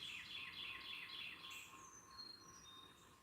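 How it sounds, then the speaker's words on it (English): Carolina wren and Carolina chickadee calling outdoors by a river, a quick run of repeated bright chirps followed by several thin whistled notes, fairly faint and distant. "That's the wren making all that racket."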